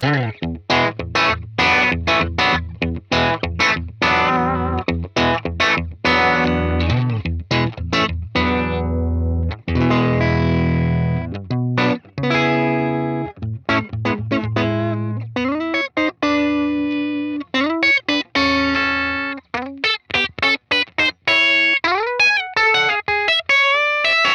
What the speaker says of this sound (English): This is the dry sound of the amp.